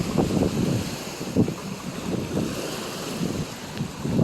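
Strong ocean waves surge and crash repeatedly on the shore at Langkawi, Malaysia, near fishing boats, with a rough, rumbling wash, mixed with gusty wind noise buffeting the microphone.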